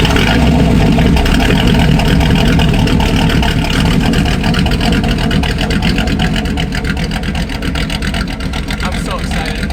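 An old Jaguar with a cammed V8 swap drives up a canyon road, its engine a loud, steady, continuous rumble filling the whole stretch with no break.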